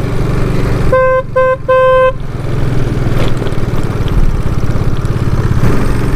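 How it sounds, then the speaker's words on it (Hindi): A car horn honks three times in quick succession, loud and close, near the Ranidah temple on the way to Ranidah waterfall in Jashpur, Chhattisgarh, with an engine rumbling steadily underneath and continuing after the honks. "हाँ तो हॉर्न देना जरूरी है।"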